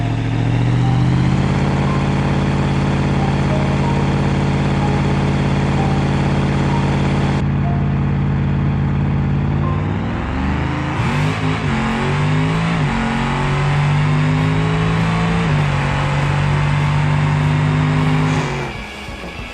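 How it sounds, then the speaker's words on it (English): In the BeamNG driving game, an Ibishu BX drag car's turbo engine revs hard and held on the foot brake, a loud steady droning roar that drops and shifts pitch midway, then settles into another sustained high rev before cutting off. "Trying to spool up the turbos on the foot brake seems to be key in getting off the starting line strong with these."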